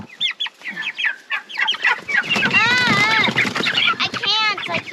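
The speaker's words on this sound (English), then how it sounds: "Oh, chicken! Go get that one." Meat chickens being rounded up for a pasture chicken tractor on an off-grid farm cluck loudly and repeatedly close by, over and between excited voices.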